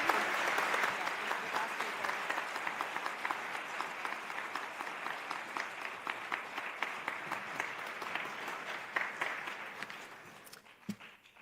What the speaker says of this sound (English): Round of applause for all of our inductees.